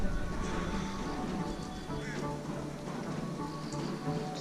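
Steady, dense rain hisses continuously in Manali in the Himalayas, with faint background sounds beneath the constant patter.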